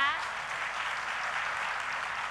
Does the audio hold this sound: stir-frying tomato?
no